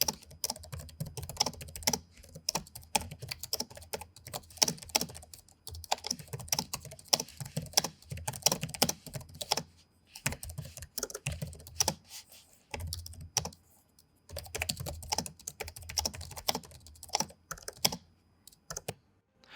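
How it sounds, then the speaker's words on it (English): Close, crisp typing on the keyboard of a 2021 Predator Helios 500 gaming laptop, with bursts of rapid clicky keystrokes separated by short pauses and no voices. "Let's give that keyboard the ASMR sound test."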